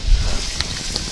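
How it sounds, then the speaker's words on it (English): A continuous hiss with faint pops, like chopped vegetables including carrots crackling in a hot pot for chicken noodle soup, heard close up. "when you hear all that crackling, that should say flavor to you"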